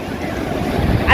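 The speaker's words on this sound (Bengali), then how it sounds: "কি দারুণ ঢেউ আসছে।" Loud, close ocean waves rush and break on the beach at Puri, a continuous roaring wash mixed with heavy wind buffeting.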